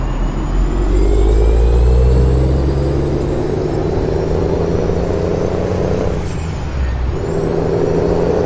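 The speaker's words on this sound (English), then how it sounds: "Yeah, there's that horrible freaking exhaust." Loud, steady engine and exhaust drone of a Freightliner Coronado semi truck in American Truck Simulator, a low rumble with a whining tone that dips briefly near the end before picking back up.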